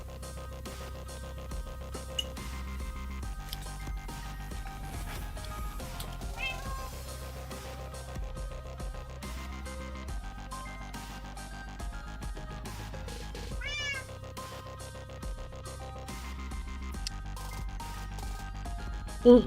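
A cat meows in the block-building game GregTech: New Horizons, a few faint, brief mews scattered over continuous layered background music.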